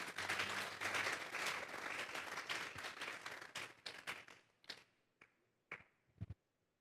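Church congregation applauding, dense clapping that thins out into a few scattered, isolated claps before fading to quiet.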